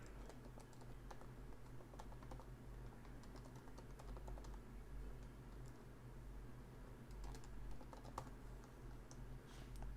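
Faint, quick keystrokes tap on a Mac computer keyboard in uneven clusters over a low steady hum, with no voices.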